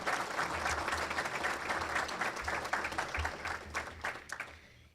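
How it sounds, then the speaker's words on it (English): Audience applause at a Hall of Fame ceremony: steady, moderately distant clapping from a crowd that holds evenly, then thins out toward the end. "So I would like to clap for them because they've done a great job."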